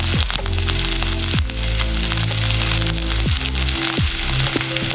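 Chopped green chillies frying in hot coconut oil make a loud, dense crackling sizzle up close, with occasional clanks and scrapes of a utensil against the pan and no talking.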